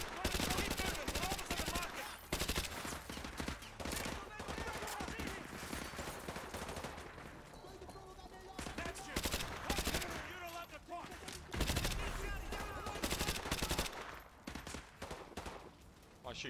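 Sustained automatic bursts from an RPD machine gun in Call of Duty Modern Warfare 2 Remastered, loud and near, with dense rapid firing, short pauses and a backdrop of battle noise through most of the stretch.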